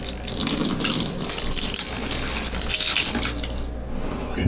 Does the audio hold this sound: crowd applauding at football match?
no